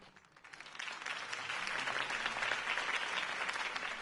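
Crowd applause after Harvey Dent's speech in a Batman video game rises quickly from quiet into steady, dense clapping that holds strong for several seconds, broad and enveloping.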